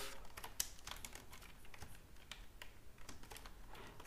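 Quiet, rapid clicking of keys on a computer keyboard as code is typed, an uneven patter of soft taps close by with no voices.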